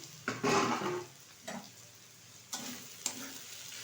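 Ivy gourd (kudri) frying in a pan, with a few separate sizzling, scraping bursts as it is stirred, the first one loudest and longer, the later ones short, over a quiet low background.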